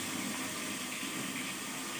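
Water runs from a tap in a steady, even hiss that stays constant with no pauses, moderately close and alone without talk.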